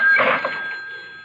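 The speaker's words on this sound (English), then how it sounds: "the phone was ringing" A telephone rings once in an apartment with a short, bright electronic trill that fades into a lingering tone, close by and alone.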